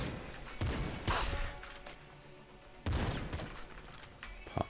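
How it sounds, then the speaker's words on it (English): Pop rifle gunfire in the top-down shooter Nuclear Throne, a few quick bursts of snappy shots separated by short pauses, moderately loud with no talking. "Pop rifle."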